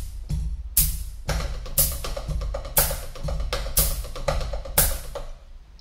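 Drum sticks play an intermediate hand-technique etude of paradiddle-based sticking, grouped in sixes and fours: a quick, steady stream of crisp strokes with a louder accent about once per second, heard alone.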